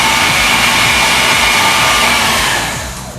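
A food processor grinds a pork filet filling into paste, giving a loud, steady high-pitched whir that runs unbroken for a few seconds before starting to wind down.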